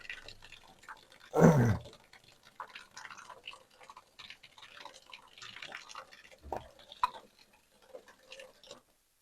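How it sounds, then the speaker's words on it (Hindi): Water drips from a steamer pipe fitting, sparse ticking drops that fall irregularly over a quiet background, with one louder splash-like thud early on and another midway. "ये देखो, खोलने की जरूरत ही नहीं पड़ी, पानी खुद आया।"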